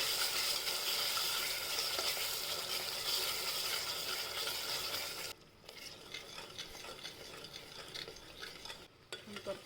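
Onion-tomato puree with whole spices sautés in a pan for rajma masala, a steady close sizzle and hiss with soft stirring scrapes that drops in level partway through and then continues more unevenly.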